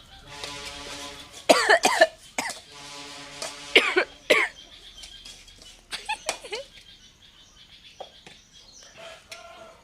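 Several harsh coughs burst out in clusters, close and loud, with quieter rustling and a faint voice between them.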